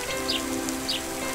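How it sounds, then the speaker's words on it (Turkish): Cartoon rain falls in a steady patter of drops, with two short bright chirps riding on a sustained musical tone. "Ama hava o kadar sıcakmış ki karlar düşmeden eriyip su oluyor, yağmura dönüşüyorlarmış."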